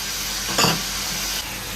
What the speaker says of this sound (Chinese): 开始煎牛舌，锅中加油，油热下牛舌